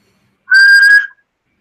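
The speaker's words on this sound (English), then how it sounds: "I can legitimately whistle" A person gives a single short, clear whistle, a steady pure tone lasting about half a second, close and loud against silence.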